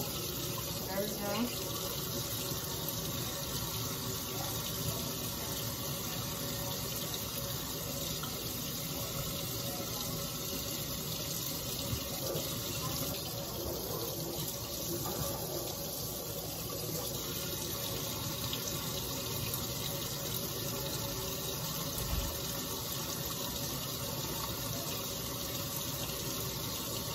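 Tap water runs steadily while hair is washed, a constant close splashing hiss that lasts the whole time, with a voice faintly underneath at moments.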